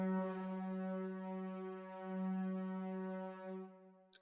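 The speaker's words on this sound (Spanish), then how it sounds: "El sforzando suena así." A sampled orchestral instrument playing a sforzando articulation: one bright harmonic note with a sharp accented attack that drops back, then holds steadily before tapering off near the end, played alone without any speech.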